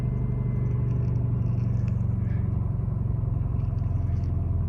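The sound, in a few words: car engine idling high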